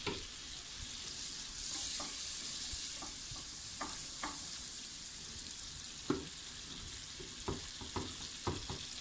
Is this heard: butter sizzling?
yes